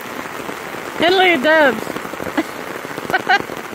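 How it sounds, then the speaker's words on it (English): Steady rain patters on surfaces at a wet, muddy campsite, a constant close hiss of drops throughout while a person speaks briefly over it. "It rains."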